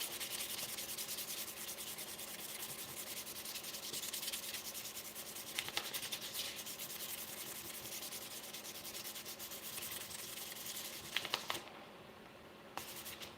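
Wooden knife handles sanded with 400 grit sandpaper, steady close rhythmic rubbing strokes that continue without pause and ease off near the end.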